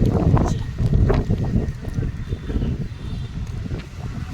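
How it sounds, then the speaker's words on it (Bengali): Steady outdoor wind under a banyan tree rushing and buffeting against the microphone, with low rumbling gusts throughout and faint background activity. "বট গাছের নিচে এমনি ঠান্ডা ঠান্ডা হাওয়া ভালো লাগে।"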